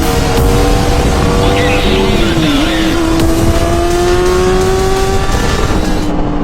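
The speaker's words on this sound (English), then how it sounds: "Shifting in a wheelie and everything." A 636cc stunt motorcycle revs loud and close, the engine note holding steady, then climbing and stepping through gear shifts while the bike rides a wheelie.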